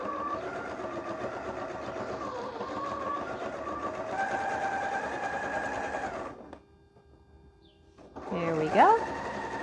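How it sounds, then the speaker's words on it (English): Sewing machine stitching a single line around a pocket on a market tote, a steady continuous whir with speech over it, pausing near the end before a brief burst of handling and talk. "I'm just going to put on 1 line of stitching around this."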